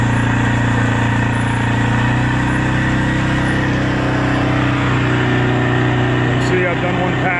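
Four-wheeler pulling a drag over a freshly seeded clover food plot: a loud, steady, close engine drone with a constant low hum and rough mechanical texture throughout.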